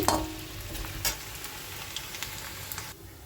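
Potatoes frying in hot oil in a home kitchen pan, a steady close sizzle with a few brief stirring clatters, cutting off to a quieter hiss near the end.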